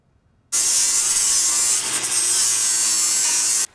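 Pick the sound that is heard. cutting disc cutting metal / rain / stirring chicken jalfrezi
cutting disc cutting metal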